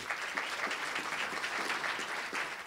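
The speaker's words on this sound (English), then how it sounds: "let's give Junior and his singers a round of applause as they come forward" An audience at a library award ceremony applauds singers coming forward to the stage: a continuous wash of many hands clapping, faint and distant, with no speech.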